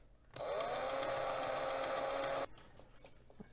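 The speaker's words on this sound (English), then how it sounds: "Started using my handheld drill because I've noticed that I have a little bit more control with this" A handheld drill bores into a Hot Wheels car base, producing a steady high whine that rises slightly in pitch as it starts, runs for about two seconds, then cuts off abruptly.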